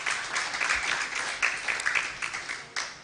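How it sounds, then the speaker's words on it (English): An audience at a Nigerian plastics economy launch event claps in a dense, moderately distant patter of many hands that swells and fades in small waves. "Can we also give them a round of applause?"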